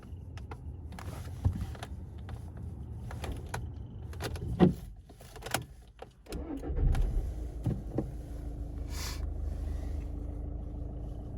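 A car engine cranks and catches, then settles into a steady idle, with a few clicks and rattles beforehand.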